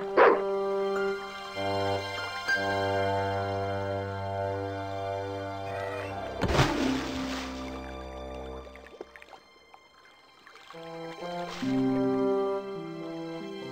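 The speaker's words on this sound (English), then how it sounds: "I felt a slight twinge of conscience as I prepared to give the dog a dunking." In Broken Sword II, a dog is dunked in water at Marseille's docks: a heavy splash and dripping water, with a dog's whimpers and short barks before and after, over a soft tonal musical backdrop.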